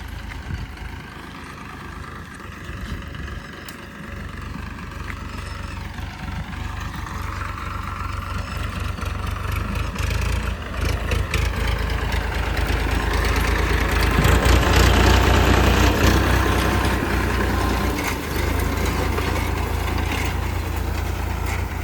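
New tractor engine chugging while ploughing a farm field, a heavy low drone that rises gradually in loudness and revs toward the middle, close by and continuous with no voices.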